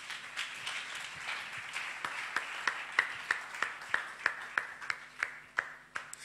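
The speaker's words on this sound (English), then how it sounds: "Clap your hands for the Lord." Hands clapping at a church service in a steady, even rhythm, roughly a dozen claps spaced evenly, with faint background murmur.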